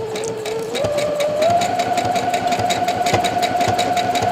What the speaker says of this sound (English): we're going to use our little guide bar lined up right against the fold and just start stitching